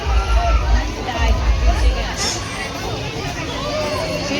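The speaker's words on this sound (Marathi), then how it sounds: "अशी जत्रेमध्ये भरपूर गर्दी झालेली आहे." Dense crowd hubbub at a village fair during a goddess palanquin festival, a steady wash of many overlapping voices and chatter near and far, with louder low rumbles in the first half.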